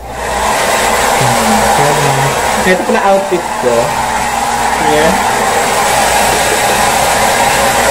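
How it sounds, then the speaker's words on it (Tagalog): A hair blow dryer runs steadily and loudly from start to finish, a constant close whir while someone speaks briefly over it. "So, nag-blower ako ng hair."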